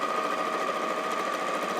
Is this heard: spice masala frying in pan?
no